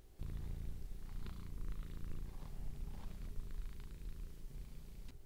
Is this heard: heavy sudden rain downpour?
no